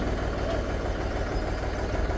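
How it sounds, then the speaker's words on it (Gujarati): A tractor loaded with wood idles close by as it pulls slowly into a village yard, its engine a steady, heavy low rumble with no pauses or voices. "લાકડાનું ટ્રેક્ટર અંદર આવી ગયું છે."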